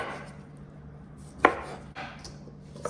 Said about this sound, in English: Alright, so now we go cut it up.